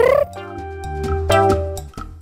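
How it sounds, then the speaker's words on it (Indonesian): A domestic-sized cat gives a single drawn-out meow, loud and close, its tonal cry bending slightly over about two seconds with no talk. "Sementara kucing lainnya miau."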